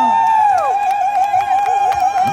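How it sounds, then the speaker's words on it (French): An outdoor crowd at a rally on Place de la Bourse in Paris applauds and cheers for Nicoletta, with scattered claps and whoops beneath a loud, sustained horn-like tone. "Beaucoup d'applaudissements pour Nicoletta."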